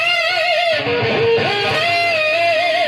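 A distorted electric guitar plays a lead solo passage from a song, sustained notes with bends and vibrato ringing out loud and alone.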